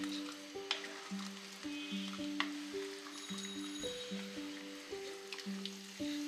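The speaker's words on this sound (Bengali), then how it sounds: "মশলাটা মাংসের সাথে ভালো করে মিশিয়ে দিচ্ছি।" Mutton rogan josh frying in a pan as spices are stirred into the meat, a steady sizzle with repeated scraping and stirring strokes, close and continuous.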